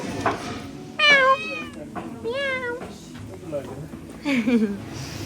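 A cat meows repeatedly, loud and close, with a few drawn-out cries separated by short pauses, in Sarangkot Bhanjyang village near Pokhara.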